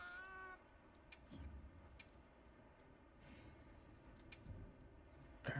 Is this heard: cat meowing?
yes